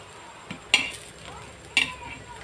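Fried lentil pakoras are lifted one at a time from a frying pan with a metal utensil, giving two sharp, close clinks about a second apart over faint kitchen background noise.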